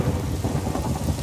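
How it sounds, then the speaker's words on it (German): Rain and thunder in the video game Minecraft, a steady, dense rain hiss with low rolling thunder rumble, continuous and fairly loud for the whole moment, with no one speaking. "Oh nein, es regnet."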